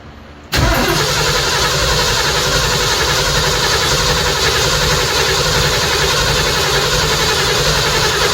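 A Big Block 460 V8 cranks briefly, catches and keeps running at a loud, steady idle close by for the rest of the clip, with no talking.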